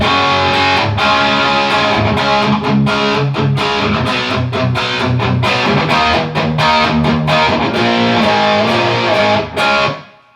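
A loud, distorted electric guitar, a Flying V kit build, plays rhythmic chords with a touch of amp reverb, ringing out briefly before cutting off at the end.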